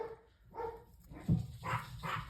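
Several dogs bark in a home, with a few sharp barks spread across the moment at moderate distance, loud enough to stand out against room noise.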